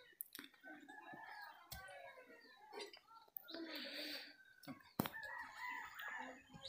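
A chicken about to be slaughtered for guests at a tribal home clucks and crows in scattered bursts. Sharp knocks and movement noise come and go, with quiet voices in the background.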